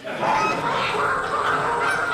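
Several geese honk loudly and continuously, their overlapping nasal calls close by and crowding together.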